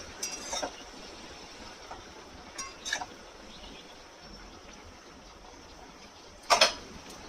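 A lid goes onto a pot of kalmi (water spinach) greens in a home kitchen, giving a few brief, light clinks spread apart, the last one the sharpest, over quiet room noise.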